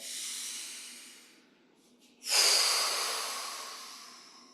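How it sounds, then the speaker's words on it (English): Forceful breath sounds during a qigong breathing exercise: a long airy exhale that tapers off, a brief quiet gap with short sniffs, then a second strong rushing exhale that slowly fades, close to the microphone. "Inhale. Powerful exhale."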